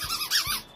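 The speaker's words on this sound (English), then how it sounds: "And I hear squeaking, you know what that means." A rat puppet's squeaky voice chirps in quick, bright, wavering squeals, several rising and falling peaks packed into under a second, loud and close with no talking around it.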